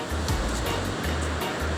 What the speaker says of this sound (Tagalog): Tubig ng dagat. Pero maalon.